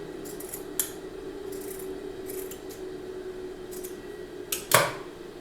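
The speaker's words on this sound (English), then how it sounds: "Now you trim out the excess fabric so that it's not bulky" Scissors trim excess fabric from a circle skirt seam, making several soft snips and rustles, ending in a sharper close cut and handling noise.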